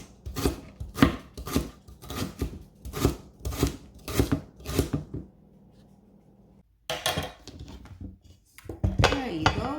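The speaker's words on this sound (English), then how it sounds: "after washing our rhubarb, we're just gonna chop it in small pieces" A knife chops fresh garden rhubarb into small pieces on a board, giving a steady run of sharp, evenly spaced close chops for about six seconds. A pause follows, then a few clattering handling sounds.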